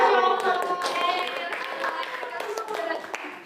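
A classroom full of students applauds a winning group, steady bright clapping from many hands that slowly thins out, with some children's voices mixed in.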